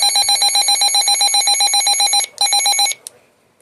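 A Midland HH-54 weather radio sounds its alert tone during a test: rapid, evenly pulsed high electronic beeping, loud and close, breaking off briefly near the end, resuming, then stopping abruptly.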